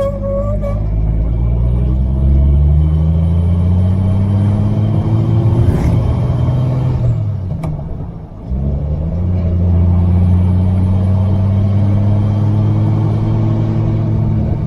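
A 1949 Rover P3 car engine running while driving at a quiet time, a loud, close rumble that climbs through the gears, dips briefly as the engine eases off, then pulls up again.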